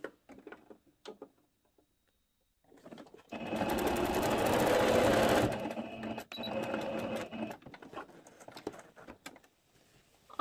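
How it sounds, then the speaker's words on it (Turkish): A sewing machine stitches closed the gap left for threading elastic on a two-piece elastic-waist skirt. It plays as a loud steady run of a couple of seconds, preceded by soft handling clicks and followed by a quieter, intermittent stitching stretch. "Boş bıraktığım kısmı da dikeceğim. Lastik geçirmek için bıraktığım kısmı."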